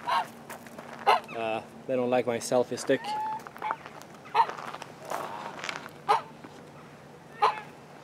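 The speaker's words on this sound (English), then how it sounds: "Let's go check out those ducks. Or swans, or whatever they are." Ducks or swans honk and call close by in a Swedish town, with repeated short bursts spread through the clip while a person talks over them.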